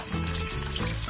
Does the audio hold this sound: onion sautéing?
yes